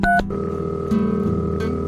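Telephone keypad tones beep briefly at the start, giving way to a steady electronic ringback or dial tone, loud and close with no talking.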